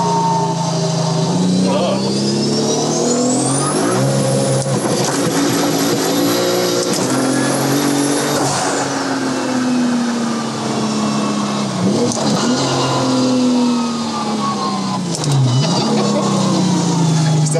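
A 1000 hp car at full throttle on a racetrack, its loud engine note rising and sweeping steadily through the gears for the whole stretch, with people talking over it from inside the car.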